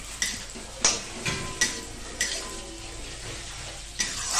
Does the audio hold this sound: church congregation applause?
no